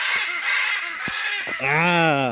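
Macaws call out with a harsh, squawking cry that rises loud and close near the end, following scattered rustling and brief faint sounds in an outdoor plant-growing setting.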